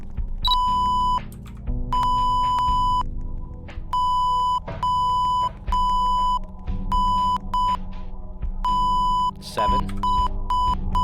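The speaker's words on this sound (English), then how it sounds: "Sounds like the Morse code's lagging a little bit, so we're not getting the full code." Electronic Morse code beeping from the Roblox horror game Identity Fraud, a sequence of clear, evenly pitched tones of varying lengths and short pauses, repeating over a low ambient hum.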